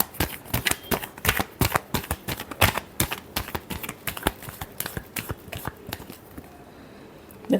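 A deck of tarot cards being shuffled by hand during a reading, a close run of crisp riffling snaps and slaps that come in quick bursts, then thin out toward the end, with no voices.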